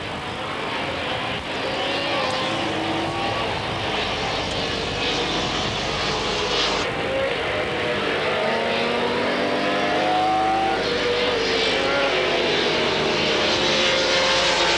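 Honda, Ducati and Kawasaki racing motorcycles at a 1997 race, their engines forming a loud, continuous high-revving roar throughout, with pitch rising and falling as the bikes pass and change gear.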